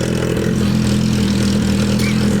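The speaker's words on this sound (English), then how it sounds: "there is no other bike that sounds like that. That sounds like an exotic, like, car" Hyper naked motorcycle engine droning loud and steady nearby with a strong low tone, sounding car-like, with no voices.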